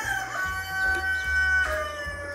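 Chickens and a rooster in an aviary at a rustic café in Espírito Santo, Brazil: a rooster crows with clucking fowl around it, moderately near, against a steady low outdoor hum.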